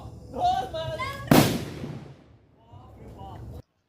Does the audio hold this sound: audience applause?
no